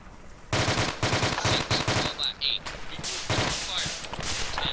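Automatic weapons fire in the military game Arma rattles in rapid bursts of machine-gun shots, loud and close, with short gaps between volleys and a voice partly underneath.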